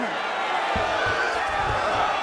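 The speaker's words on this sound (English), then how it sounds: "So the crowd absolutely loving it as these fighters work their way back to the feet." Arena crowd in the UFC 5 fighting game roars and cheers steadily throughout, a dense wash of many voices at moderate distance with a few thumps beneath.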